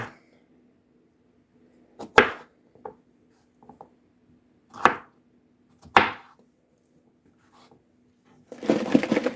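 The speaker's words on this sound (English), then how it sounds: "Instead of cutting these in rounds this week, I'm just going to cut them in spears" A kitchen knife slicing vegetables into spears on a cutting board, sharp isolated chops landing a few at a time with quiet pauses between, close and clear, ending in a brief rustle.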